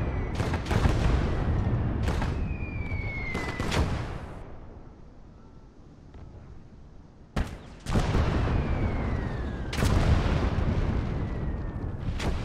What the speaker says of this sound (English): watch the artillery just fly and Watch those explosions